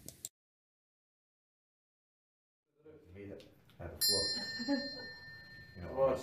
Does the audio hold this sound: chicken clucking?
no